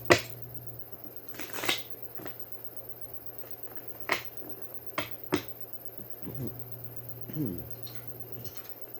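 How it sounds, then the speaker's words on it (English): Tarot cards being shuffled during a reading, quiet isolated snaps and riffles spread over several seconds with near silence between them. "One more shuffle."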